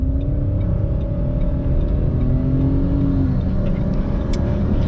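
A Honda Civic FD6 and a Renault Clio 1.0 TCe automatic accelerate from a standstill, with a steady, loud engine drone and a rising whine as revs climb.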